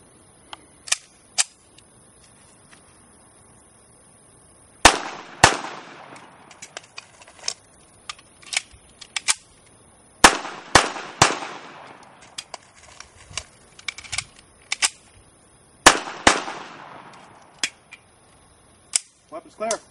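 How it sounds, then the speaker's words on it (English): Gunshots ring out during firearm magazine-change drills outdoors, with sharp, loud reports, some in quick clusters and others spaced apart, separated by quieter gaps where magazines are swapped and faint handling clicks are heard. "dump it as quick as you can, grab an extra magazine, load it, fire when that's empty, grab another magazine"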